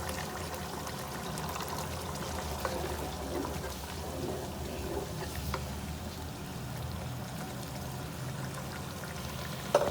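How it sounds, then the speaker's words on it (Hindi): Half a glass of water goes into a pan of frying onions for a kofta curry, making a steady hissing, splashing pour with sizzle that runs evenly for about ten seconds without speech. "अब हम इसमें आधा गिलास पानी डाल देते हैं।"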